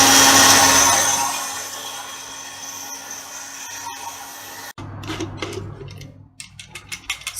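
An electric grinder whirs loudly, grinding unroasted Sri Lankan curry powder, then cuts off abruptly and leaves lighter rattling and tapping of the ground spice and the container.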